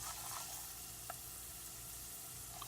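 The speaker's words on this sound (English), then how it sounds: "I'm going to tilt the pan so that they get more submerged from that oil." Peanuts frying in oil in a tilted pan, a soft continuous sizzle with a few faint pops, quiet and steady throughout with no voices.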